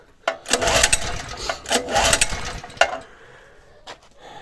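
Small engine with a cylinder head bored out for gas cranks and sputters in rough bursts, not catching, with a sharp clack near the end followed by quiet clicks as it fails to start on gas.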